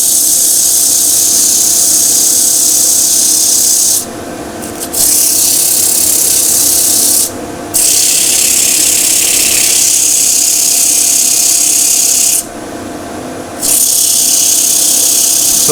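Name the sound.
sanding wooden kintsugi bowl with 100 grit abrasive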